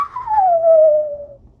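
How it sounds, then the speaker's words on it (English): A single drawn-out whistle that starts high and glides smoothly downward in pitch, clear and fairly loud, lasting over a second before stopping. "That was my dramatic whistle sound."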